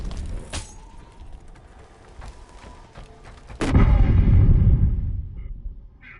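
Frag grenade detonating in Killzone Shadow Fall multiplayer, a few sharp gunshot cracks followed by a loud deep booming blast that rumbles and fades over a couple of seconds.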